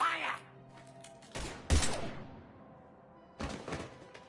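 Gunfire bursts in the video game Mass Effect 3 during a confrontation: a short volley at the start, then sharp separate shots around the middle and a final burst, fairly loud against quiet pauses.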